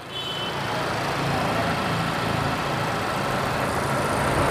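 A 2020 Mazda CX-5 engine runs at a steady idle. It makes a smooth, even broadband drone with a low rumble that holds level throughout, close up and without speech.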